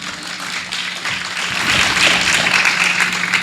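An audience claps during a Jain religious ceremony, a dense wash of applause that swells and grows louder over several seconds, close and continuous.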